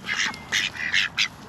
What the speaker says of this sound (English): Sylwia, look at this black and white duck.